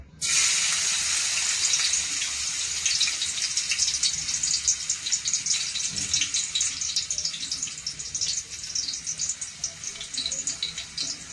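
Garlic sizzles and crackles in hot oil in a pan while being fried for an Ilocano sapsapuriket dish, a steady loud hiss with dense popping running throughout and no talk.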